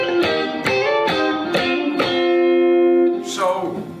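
Electric guitar playing the closing lick of a song with hammer-ons: a run of about six plucked notes in steady rhythm, then a long sustained ringing note and a final attack, close and unaccompanied, no talking.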